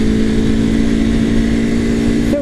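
Aprilia Tuono Factory motorcycle with quick shifter, engine pulling hard under acceleration: a loud, steady, close-up mechanical drone with a rising pitch sweep right at the end.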